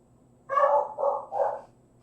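A dog barks three times in quick succession, loud and close, indoors in a quiet room.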